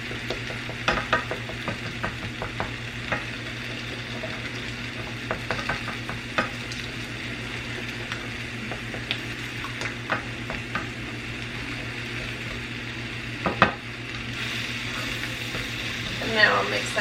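Eggs scrambling in a hot frying pan sizzle steadily while a spatula scrapes and taps in irregular strokes, close and moderately loud, with a low hum running underneath.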